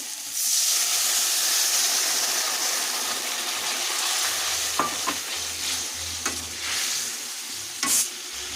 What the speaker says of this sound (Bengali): মশলা ভাজা হচ্ছে, টমেটোটা যতক্ষণ না গলছে মশলাটা নাড়িয়ে চাড়িয়ে ভেজে নিতে হবে